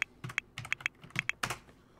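Keys clack on a computer keyboard while a name is entered in The Sims 4, in a quick, uneven run of about a dozen close, distinct taps with short pauses between bursts.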